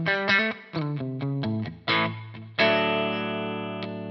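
An electric guitar on its middle single-coil pickup, played through a Friedman-style distorted amp tone, picks a quick descending run of crisp notes and ends on a ringing sustained chord that slowly decays, alone and up front.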